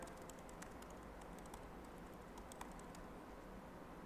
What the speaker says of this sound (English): I can hear Julie typing.